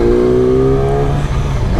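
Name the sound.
Yamaha R6 2019 sport motorcycle engine revving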